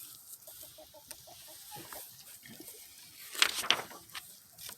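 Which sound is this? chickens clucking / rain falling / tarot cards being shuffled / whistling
chickens clucking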